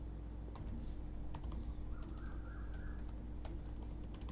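Computer keyboard being typed on while writing code, irregular crisp key clicks over a steady low hum, with a faint chirping sound in the background.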